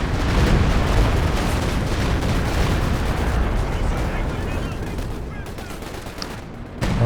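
A creeping artillery barrage in Company of Heroes 2 rolls on as a loud, unbroken rumble of overlapping blasts and gunfire, dense at first and thinning slightly toward the end.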